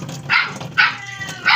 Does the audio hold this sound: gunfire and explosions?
no